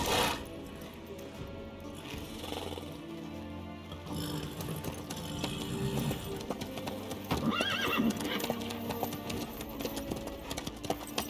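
In The Witcher 3, a horse trots along with steady clip-clopping hooves and lets out whinnies, heard beneath game music and ambient sound at moderate volume.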